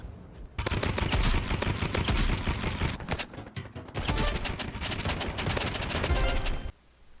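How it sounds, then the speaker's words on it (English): Combat in the Roblox game Rivals brings a dense burst of rapid gunfire and explosive crackle, with a short break partway through before the loud barrage resumes and then cuts off. "You throw the grenade at the ground, wait a second, and then use the trowel and jump at the exact same time."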